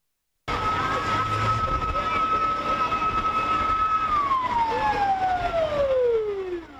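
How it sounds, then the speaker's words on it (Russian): A fire engine siren starts abruptly and wails loud and close as fire trucks speed past at a fire service display. It holds a steady tone, then its pitch slides downward as the vehicle moves away. "Под звук сирены мчатся машины пожарной охраны."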